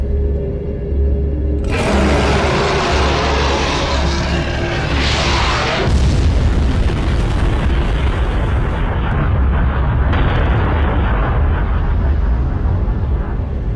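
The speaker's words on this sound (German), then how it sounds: "Schockwellen von der Explosion erhitzen die Luft und verursachen schneidende Winde" A massive, roaring impact explosion erupts after a low rumble, its shockwave building into sustained thunderous booming and rushing wind noise that fills the whole stretch.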